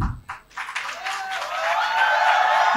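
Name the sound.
audience clapping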